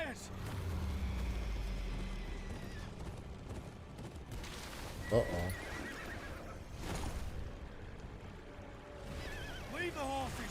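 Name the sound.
horses neighing in a video game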